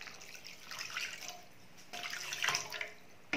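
Water is poured into a pot for mutton chest bone soup, a soft splashing trickle that swells twice, fairly quiet and heard on its own.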